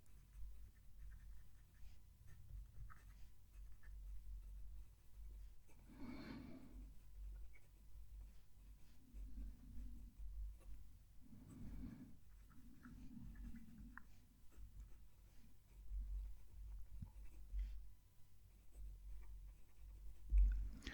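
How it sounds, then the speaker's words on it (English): A fountain pen filled with Diamine Sapphire Blue ink scratches softly across paper while a sentence is written, with faint, intermittent strokes over a quiet room. "I'll write a sentence."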